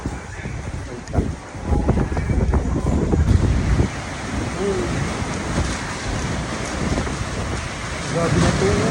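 Typhoon Ragasa wind and heavy rain lashing Macau, a steady broadband roar with gusts swelling and easing, rain hiss throughout and brief louder bursts.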